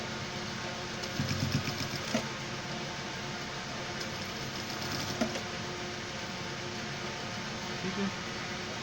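A sewing machine stitching the leg of a pant, a steady fast mechanical whir with faint rhythmic ticking that runs throughout at low volume, with some talking in the background.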